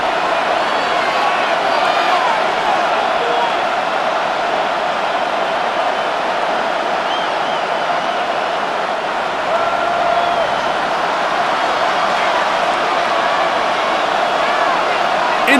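Steady, dense roar of a stadium crowd in the Madden NFL 26 football video game, New York Giants against Dallas Cowboys, a continuous wash of noise at constant loudness with no breaks.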